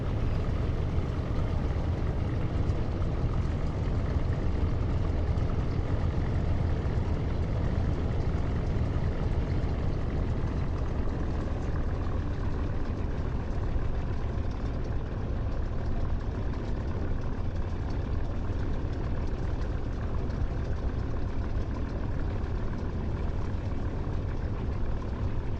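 The Spitfire LF IX engine runs steadily in the DCS flight simulator, a continuous low droning rumble at even, moderate loudness with no talk over it.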